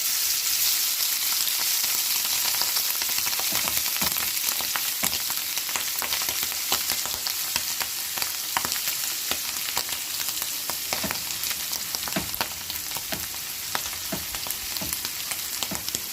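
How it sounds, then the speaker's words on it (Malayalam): Marinated mussels fry in coconut oil in a pan, a loud, continuous close sizzle with scattered crackles and pops throughout, no voices. "ഇനി ഇത് കുറച്ചായിട്ട് എടുത്തിട്ട് നമുക്ക് ഫ്രൈ ചെയ്തെടുക്കാം."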